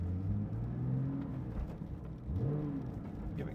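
Porsche GT3 engine pulling in first gear, a steady low rumble with a rising tone as revs climb, heard from inside the car, with a brief dip and a second rise.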